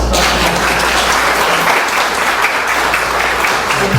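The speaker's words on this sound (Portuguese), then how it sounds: "Uma salva de palmas." An audience at a lecture on mediumship applauds, giving dense, loud, continuous clapping that fills the room with no break.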